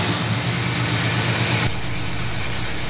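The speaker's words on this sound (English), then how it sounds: "I'm going to get a few whacks of the throttle and see how it sounds." Car engine fitted with a Rochester 2-barrel carburetor, warmed up and running loud and close, with a throttle blip building then dropping off sharply partway through to a lower steady idle.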